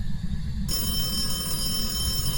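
An in-game phone rings inside a haunted house in the ghost-hunting game Phasmophobia, a steady electronic trill that runs unbroken and fairly loud over low background rumble.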